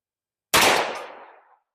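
A single 10mm gunshot firing an Underwood 155 grain jacketed hollow point XTP load from a Ruger LC Carbine at a velocity test: one sharp, loud crack with a reverberating tail that fades over about a second.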